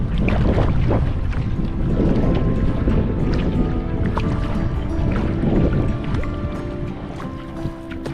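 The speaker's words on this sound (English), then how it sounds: "I think we found the wind." Wind gusts buffet the microphone on open water during a wilderness canoe trip in Nova Scotia's Tobeatic area, a loud continuous rumbling rush with water and paddling noise beneath, easing slightly toward the end.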